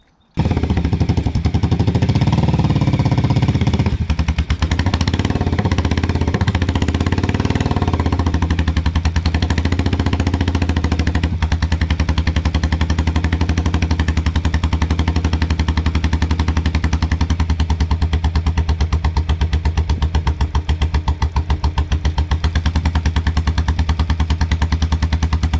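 Motorcycle engine fitted with temporary exhaust baffles, revving hard and loud up close for about twenty-five seconds, with rapid staccato firing pulses and rising and falling revs throughout.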